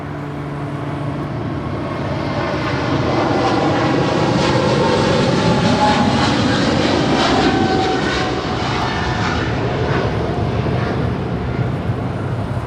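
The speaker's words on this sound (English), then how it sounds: "And Volaris Flight 4330 coming from San Salvador in this A320neo." Volaris Airbus A320neo jet, arriving from San Salvador at Los Angeles International Airport, roars loud and steady, its engine rumble swelling slightly through the middle with a whining tone sliding across it.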